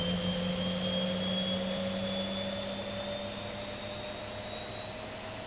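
A Boeing 737-800 jet engine spools up during a cold and dark start, a steady loud whine with sustained tonal lines droning throughout, alone without talk.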